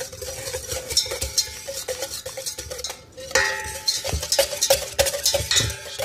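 A batter mixture being beaten by hand until pale, for a fruit tart, with continuous rhythmic whisk scraping and clinks against the bowl, briefly pausing midway before resuming.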